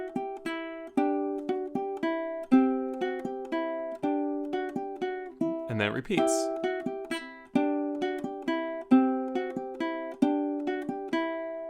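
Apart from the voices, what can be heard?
ukulele playing Carol of the Bells medley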